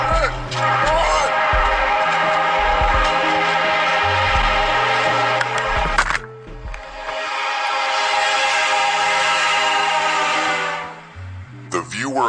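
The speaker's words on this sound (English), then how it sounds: "the blaring sound of the horn could be heard from directly behind them" A loud, sustained train horn blares close by in a tunnel, echoing, with panicked shouting over it and a brief break midway.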